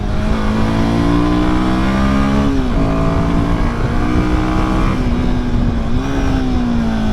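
A Royal Enfield Himalayan 450 with a liquid-cooled 452cc single-cylinder engine drones loudly and steadily at high revs. Its pitch climbs, dips during gear changes and rises again, heard close up without any voices.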